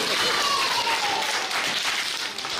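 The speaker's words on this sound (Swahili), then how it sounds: "Tujipigie makofi." An audience claps together at a school classroom opening ceremony, a dense, steady burst of applause heard up close. It lasts a few seconds under a busy crowd, with voices mixed into the clapping.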